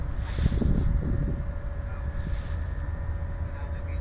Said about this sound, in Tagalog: Pero ngayon malamig, mahangin